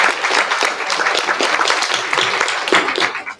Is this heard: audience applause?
yes